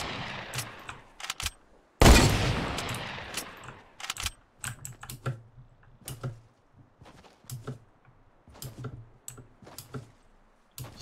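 Clicky bursts of computer keyboard keys pressed in quick, irregular clusters while playing Fortnite on PC with keyboard and mouse, with one sharp, louder crack and short gaps between flurries.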